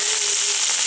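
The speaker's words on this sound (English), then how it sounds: "I'm going to shallow fry them for about 10 minutes until it's thoroughly cooked through." Sausage shallow frying in a pan, giving a steady, close, loud sizzle of hissing fat with no pauses and no voices.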